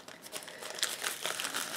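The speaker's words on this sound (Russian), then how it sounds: "Очередное вскрытие мелкого пакета из Китая." A small plastic parcel bag shipped from China is torn open, giving a close, steady run of crinkling and crackling with sharper tearing bursts and no talking.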